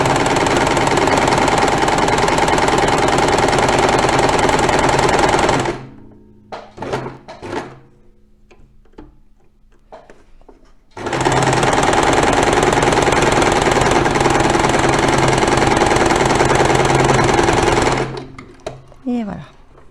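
Sewing machine running a zigzag stitch: a loud, continuous rapid mechanical chatter in two long runs, broken by a pause with small clicks and handling noises between them.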